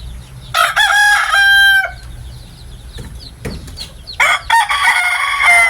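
Labuyo roosters crow loudly nearby. One full crow is followed by a pause with faint clucking, then another strong crow begins.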